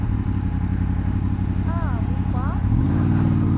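A motorcycle ridden through Bucharest, its engine droning steadily and loud with wind rumble, briefly revving up near the end, while someone talks on the phone over it.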